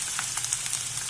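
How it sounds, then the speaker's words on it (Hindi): Ghee heats in a pan while cooking chana dal, giving a faint, steady hiss of sizzling with small crackles and pops. "ये देखिए मैंने घी डाल दिया, उसको अच्छी तरह गर्म करें।"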